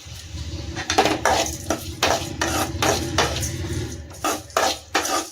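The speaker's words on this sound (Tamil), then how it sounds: "நல்லா பச்சை வாசனை போகிற அளவுக்கு நல்லா வதங்கலாம் வதக்கி விடலாம் தக்காளி நல்லா வதங்கிடுச்சு" Tomatoes are sautéed in a pan while a spoon stirs and scrapes in repeated bursts, about eight metallic strokes with clinks against the pan over a faint cooking hiss.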